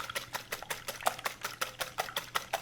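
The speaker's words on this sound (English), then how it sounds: "So I'm going to give these a little whisking first." Whisk strokes beat against a bowl of eggs in rhythmic, rapid clinks and swishes, about four per second, close and steady with no talking, while making 1960s-style banana bread.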